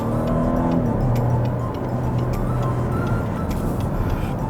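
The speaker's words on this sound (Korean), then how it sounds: "이렇게 엔진음이 싹 올라가는 게 느껴지셨을 거예요." Volvo V90 Cross Country with a 250 hp engine, revving as it accelerates from a light throttle press, a steady broadband drone with a rising harmonic tone, heard continuously from inside the car.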